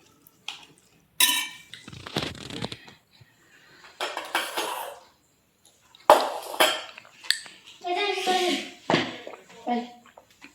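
Dishes and pots are handled for washing, with irregular clattering and clinking bursts close by, mixed with people talking.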